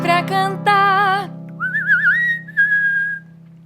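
A person whistles a bird-like song imitating a singing bird, starting with bright sustained warbled notes, then a pause and softer sliding chirps, heard alone over a steady low hum.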